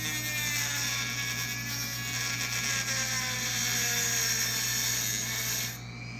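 A power tool cuts slowly through a motorcycle fork tube cover, giving a steady, close whine and grinding buzz that holds for several seconds before stopping abruptly near the end.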